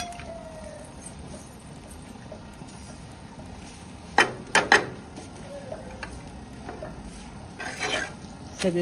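Methi thepla roasting on a hot griddle, a steady low hiss and faint crackle running throughout, broken by a few sharp clattering knocks of a utensil against the pan around the middle and near the end.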